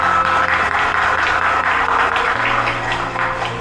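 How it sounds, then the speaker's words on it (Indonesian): An audience at a fast-breaking gathering in a coffee shop gives continuous applause for a woman named Widya Paramita, a dense, even patter of many hands clapping at close range. "Sekali lagi beri tepuk tangan dong buat Widya Paramita"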